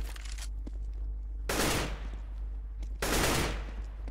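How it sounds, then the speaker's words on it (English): Bursts of automatic gunfire in a 1v1 video game match, two loud rapid volleys about a second and a half apart over a low steady game hum, with no talk. "Cyborg dancing around, hitting some shots, but 24 HP still left."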